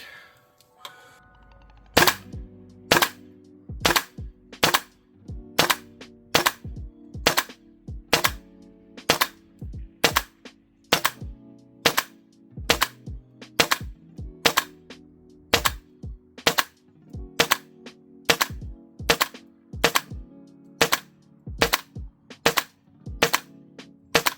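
A gas blowback airsoft rifle fires through a magazine at -7°C in winter cold, sharp single cracks at slow, uneven intervals, each with a short metallic clack, close and clear against quiet.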